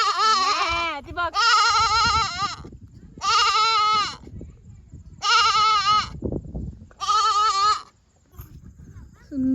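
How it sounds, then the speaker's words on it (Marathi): Goats in a village near Trambakeshwar give several loud, close bleats in separate wavering bursts, with rustling and background noise in the pauses between calls. "बकरी बघ ना, यमुनाची बकरी आली."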